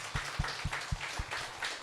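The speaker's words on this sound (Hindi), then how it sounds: "यस, कम ऑन, तालियां।" Applause at a Goa meeting, a steady wash of clapping from a gathered audience with a few louder individual claps standing out, fairly faint and continuous throughout.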